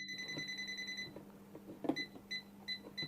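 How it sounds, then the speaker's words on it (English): A TOOLTOP ET32 breaker finder held at a breaker panel gives a long run of high electronic beeps, which then break into short, evenly spaced pips. "it is beeping."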